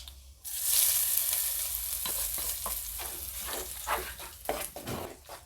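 Hot tempering poured into mashed arai keerai spinach sizzles loudly with a sudden hiss, then settles into steady crackling broken by scraping stirs, close up with no voices.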